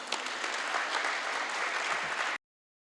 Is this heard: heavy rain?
no